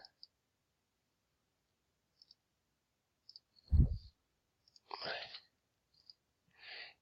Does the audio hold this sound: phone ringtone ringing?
no